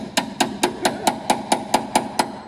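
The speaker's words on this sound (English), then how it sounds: "chisel this out for me" Steady hammer blows drive a chisel into the frame of a 2018 Honda Accord Sport during a quarter section replacement, about ten sharp metallic strikes in an even rhythm, close and loud, with no talking.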